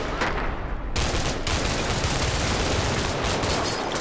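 Heavy, sustained gunfire crackles and rumbles in the Cold War tactical game Combat Mission, a loud, dense barrage of overlapping shots and impacts filling the whole stretch without voices.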